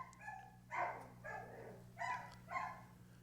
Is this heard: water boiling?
no